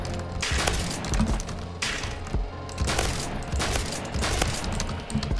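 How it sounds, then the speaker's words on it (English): Gunfire from the Phantom Forces video game, with repeated loud shots and bursts cracking out at irregular intervals, some close and some further off, and a faint mechanical clatter in between, no voices. "My teammates are shooting at each other."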